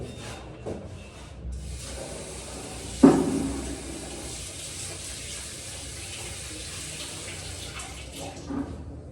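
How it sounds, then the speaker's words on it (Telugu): Continuous rushing of water running from a tap into a tub, steady and close, with a brief clunk partway through. "ట్యాబ్లో కొద్దిగా వాటర్ తీసుకుంటాను."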